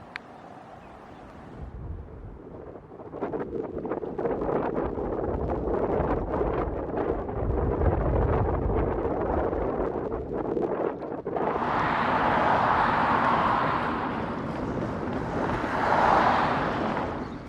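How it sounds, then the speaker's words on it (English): Strong coastal wind roars steadily across the microphone as a cyclist rides along the coast near low tide, the gusts swelling louder and harsher near the end, with no speech. "That wind's beating me now."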